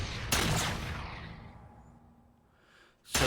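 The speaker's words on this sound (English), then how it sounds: "that is the Covenant carbine that the Jackals fire" A Covenant carbine from the Halo video game fires a sharp shot that trails off into a fading tail, and a second burst follows at the very end.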